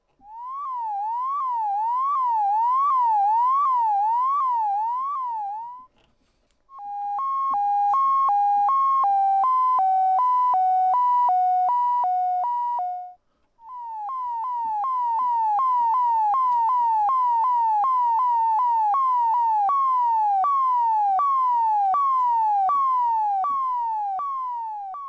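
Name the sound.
synthesizer pitch-modulated sound effects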